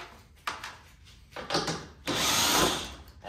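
A power tool, likely a drill or impact driver, removes bolts from a car strut during a Pedders Extreme coilover install; short bursts of whirring come close up, with the longest, loudest run near the end.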